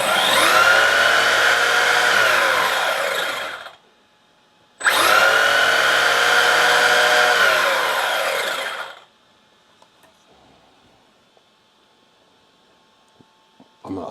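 An ARRMA Big Rock Crew Cab 223S RC truck on a 3S battery gives two long, loud bursts of high electric-motor whine under throttle. The truck then falls nearly silent.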